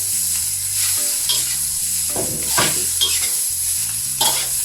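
Hong Kong kale stir-frying in a wok over high heat, with a steady loud sizzle and recurring scrapes and clatters of a spatula tossing the greens, no voices.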